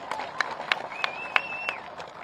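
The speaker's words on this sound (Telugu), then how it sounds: "పేరు పేరున అందరు గట్టిగా చప్పట్లు కొట్టాలి." An audience claps at a political event in Nalgonda, a faint, evenly spaced run of single claps with a thin whistling tone over the middle.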